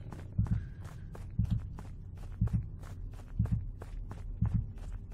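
A steady, heavy double-thump heartbeat in the video game Witch Hunt pulses about once a second, loud and close, with a low hum between beats and no talking.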